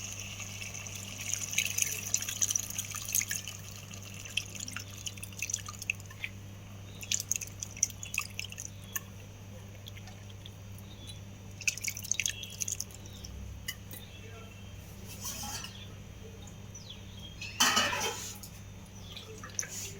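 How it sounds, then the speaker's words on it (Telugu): Tamarind juice goes into a spicy Andhra fish curry in quiet, scattered drips, splashes and soft squelches, with no talking. "ఇప్పుడు పులుసు, చింతపండు పులుసు తీసుకొని ఈ పులుసుని మనం ఇప్పుడు ఇందులో వేస్తాం అన్నమాట."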